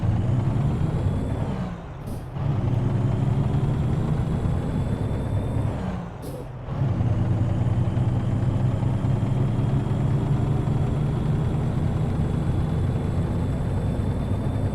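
International truck engine idling and rumbling steadily up close in American Truck Simulator, deep and continuous, with two short dips where the drone briefly drops away before resuming.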